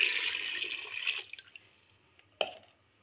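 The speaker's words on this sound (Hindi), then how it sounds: "पानी डाल देती हूँ" Water pours steadily into a pressure cooker for about a second, then tapers off, followed by a single sharp clank near the end.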